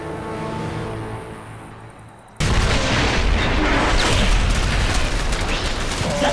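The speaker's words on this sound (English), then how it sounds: "The gun is destroyed!" A cannon being destroyed in StarCraft 2, a loud sustained blast of explosions and rumbling debris that erupts suddenly after a quieter stretch and continues densely to the end.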